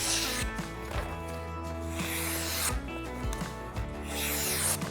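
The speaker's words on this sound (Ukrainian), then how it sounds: "візьмемо листочок і подивимося, як він ріже. Класно ріже." A Victorinox 1.97.03.B1 professional pruning knife slices through a leaf, giving a few close, dry rasping strokes over a humming background with tonal noise.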